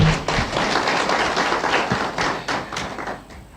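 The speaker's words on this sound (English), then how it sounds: "Another round of applause to the Archbishop." Brief, dense applause from an audience at a peacebuilding launch event, honouring the Archbishop, with scattered sharper claps and taps fading toward the end.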